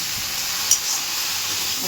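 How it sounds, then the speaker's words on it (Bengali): Okra fries in a pan with a steady, close, moderately loud sizzling hiss that runs unbroken, with one brief sharp clink partway through. "আলু ভাজা হয়ে গেছে এখন ঢাড়ুস ভাজা করছি"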